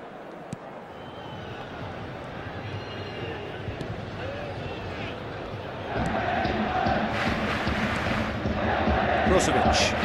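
A stadium crowd in the football game eFootball 2022 keeps up a steady roar through a Juventus versus Inter Milan match, then swells louder about halfway through as the reaction builds.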